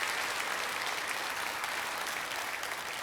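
Steady, dense applause from a church congregation at a Baptist revival service fills the room continuously, loud and even with no talking.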